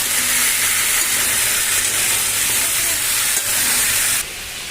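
Vegetables including pumpkin, stalks and potatoes fry in a pan with onion and chillies, giving a loud, close, steady hiss and sizzle that drops slightly quieter near the end.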